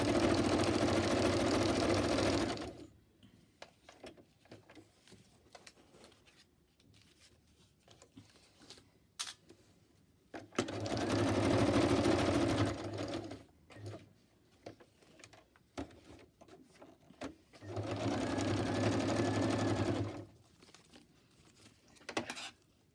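A domestic sewing machine stitches zigzag rows on fabric scraps in three loud bursts of steady whirring, each a few seconds long, separated by quiet stretches with faint handling noise.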